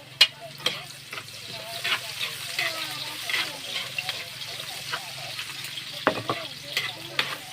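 Garlic and ginger sizzle in a pan with a soft, continuous frying hiss while a utensil stirs them in scattered scraping clicks. The cooking sounds are fairly quiet and close, and someone talks over them.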